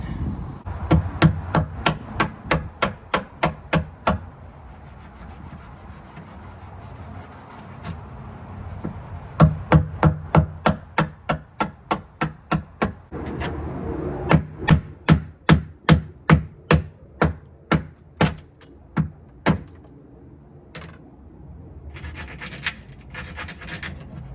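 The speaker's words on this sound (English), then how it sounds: "I'm trying to keep it pretty with this dang hole saw, but it's just not working" A hole saw bores through the fiberglass hull of a Carolina Skiff J16, heard as bursts of sharp, rapid rhythmic knocks and grinding strikes in several runs with short pauses, loud and close, no talking.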